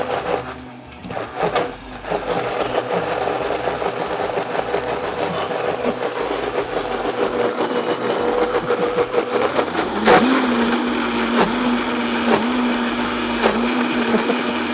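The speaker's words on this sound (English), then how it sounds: "Well, we've got the Oh, the blending stick." A steady motorized whir of a stick blender runs throughout, shifting pitch partway as it works through a thick frozen Dole Whip dessert mixture, loud and close.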